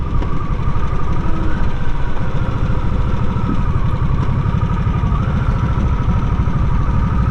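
Harley-Davidson Nightster Special with the liquid-cooled 975 Revolution Max motor, running with a steady, loud, close engine drone and vibration throughout, no voices.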